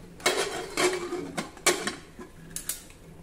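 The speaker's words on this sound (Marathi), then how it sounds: "कुकरचं झाकण बंद करून घेऊ" Metal lid of a pressure cooker being closed and locked, a series of short clinking, scraping metallic clicks at uneven intervals, close and fairly quiet.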